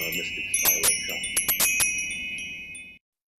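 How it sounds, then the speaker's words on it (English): A Woodstock Mystic Spiral wind chime rings with bright, sustained metallic tones, struck in a quick irregular cluster of strikes that overlap, then fade and cut off abruptly after about three seconds. "The sound of this one will be exactly the same as the other three Mystic Spiral chimes."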